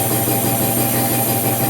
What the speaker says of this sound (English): in a moment, you'll hear the compressor kick back on